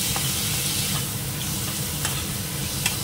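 Chopped tomatoes fry in a hot pan with a steady, close sizzle and faint stirring clicks, continuous and alone without any voices.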